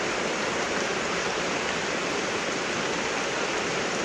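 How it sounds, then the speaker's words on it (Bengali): Heavy torrential rain pours down in a dense, steady, unbroken roar close by, with no talk. "এই যে মুষল ধারায় বৃষ্টি শুরু হয়ে গেছে।"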